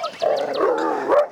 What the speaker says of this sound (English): We got all kinds of dogs out.